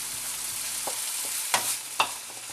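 Onions cooking in a pan for braised goat with balsamic flavours, a steady soft sizzle with a few sharp scraping stirs near the end.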